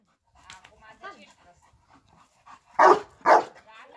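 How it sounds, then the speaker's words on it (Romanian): A Romanian Raven shepherd dog gives two loud, close barks after softer panting and whimpering sounds, with people talking quietly in the background. "se aude un pic de lătrătură."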